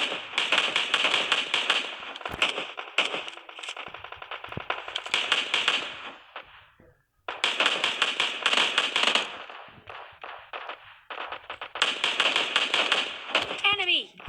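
SKS rifle fire in a battle royale shooter, dense rapid bursts of sharp cracking shots in long volleys separated by brief pauses, loud and close, with a voice talking over the action.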